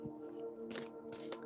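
Tarot deck being shuffled by hand, a few quick papery riffles and slaps of cards, close and fairly soft.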